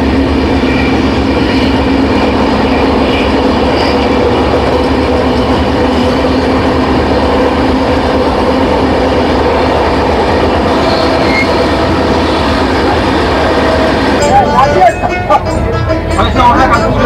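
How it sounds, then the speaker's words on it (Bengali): The Howrah Malda Intercity Express running, with a loud steady rumble of wheels and carriages filling the scene throughout, then a shift near the end as the train slows, with some squealing and clatter. "ট্রেন এসে দাঁড়িয়েছে"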